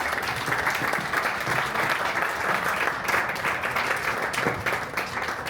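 A book presentation audience claps in a steady, full round of applause that carries evenly from start to finish, fairly close and loud.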